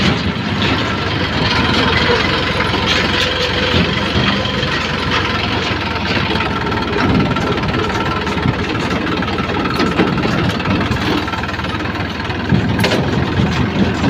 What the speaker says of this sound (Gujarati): હવે ઘરે હેડ્યા છીએ નદીમ ટ્રેક્ટર ઉતારવાનું છે તમને બતાવી દઉં